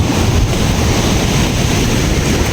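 Rushing water surging hard at Sentinela Beach Resort in Claveria, Cagayan Valley, with the tide rising in rain; a steady, loud wash of surf roars close by, mixed with gusty wind buffeting the microphone.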